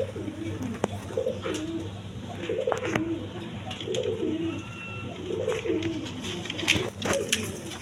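A pair of Lotan pigeons cooing close by in soft repeated rolling phrases, with light rustling and occasional clicks.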